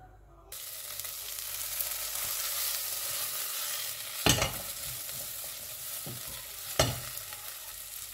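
Onions frying in butter in a saucepan for red lentil soup, a steady close sizzle broken by a couple of sharp stirring scrapes, with no voices.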